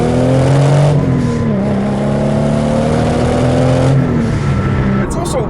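A turbocharged 1997 Toyota Supra engine revs and pulls hard under acceleration, a rising turbo-spool whine climbing and settling, with a voice talking over it near the end.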